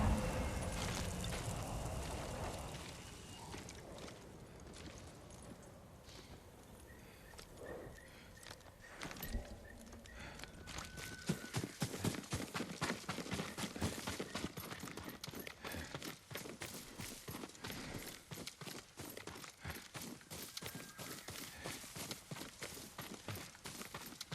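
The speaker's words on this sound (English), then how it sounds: "Yuriko's horse. She can't be far." Horse hooves clip-clop in the video game Ghost of Tsushima, a steady rhythm of quick, fairly close footfalls that picks up after the first few seconds and runs over a busy background of game sound.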